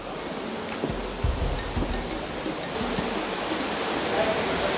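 Waterfall near caves, a steady rushing wash of falling water heard from some distance, with faint knocks and movement over it.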